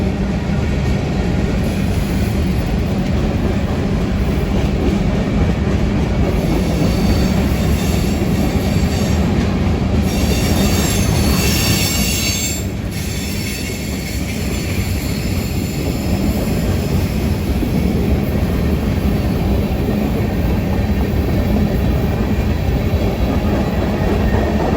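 Coal train being loaded at a Peabody Energy facility in Southwest Indiana, a continuous loud rumble of railroad cars rolling past with clattering wheels and occasional high squeals, steady throughout.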